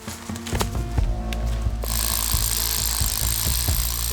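A heavy power drill grinds and hammers steadily into hard ground, boring pier holes for a small wooden cabin, close and loud, with a dense broadband roar and repeated knocking impacts throughout.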